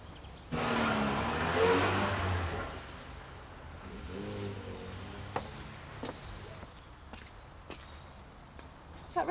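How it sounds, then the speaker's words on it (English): A car arriving outside in a 1990s rural village, its engine swelling close by then easing off as it pulls up, followed by scattered footsteps and faint bird calls. "Is that Rachel's car?"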